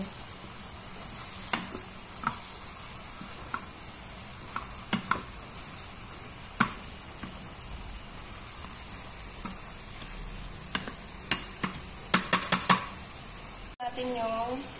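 Peppered vegetables sizzle steadily in a frying pan while a utensil scrapes and clicks against it now and then as they are stirred; a voice speaks briefly at the end.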